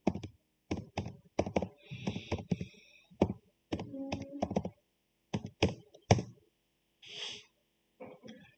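Keys tapped on a computer keyboard while entering a login ID and password, scattered clusters of sharp close clicks with short pauses between bursts, fairly quiet and with no speech.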